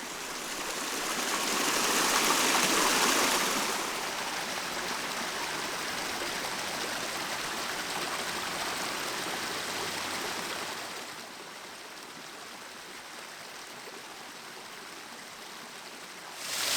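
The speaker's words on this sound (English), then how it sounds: "it's just a little baby trickle as it goes over the edge here" Water trickles and splashes steadily over rocks, a soft continuous rush that swells briefly early on and then settles lower, with no voices.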